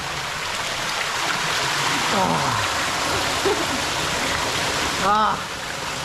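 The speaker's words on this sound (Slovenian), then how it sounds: "Prihajamo do prvega manjšega slapiča. To je en stranski pritok tega Doblarca." Small waterfall on a side tributary of the Doblarec stream in a Slovenian canyon, a steady broadband rush of falling water filling the clip, with brief voices and vocal sounds rising above it.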